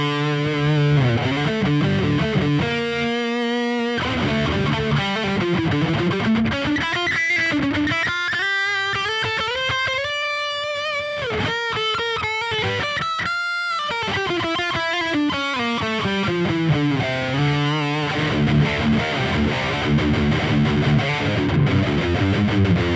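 Electric guitar played through an EVH 5150 Iconic 80 head with the gain pushed higher, a loud, saturated, distorted tone running continuously with sustained notes, bends and sliding runs, no talking.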